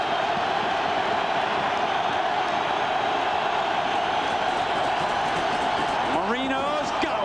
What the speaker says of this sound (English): Listen to the crowd in this end of the field.